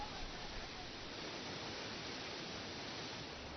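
A waterfall in a water-rich scenic area of Lechang, China, heard as a steady, even broadband rush with no breaks, distant and fairly quiet.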